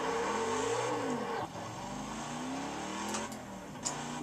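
A car cruising through Hawaii in Test Drive Unlimited 2: a steady, close engine drone rising and falling with gear changes and throttle, with a brief dip mid-drive, alone without speech.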